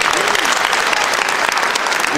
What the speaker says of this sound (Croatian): Molim još jedan veliki aplauz za veći ansambl.